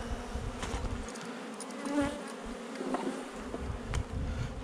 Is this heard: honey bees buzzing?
yes